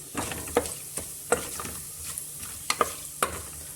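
Bay leaf, fennel, cinnamon, cloves and cardamom frying in about two spoons of oil for a village-style mutton sambar, a close crackling sizzle punctuated by several sharp stirring clacks.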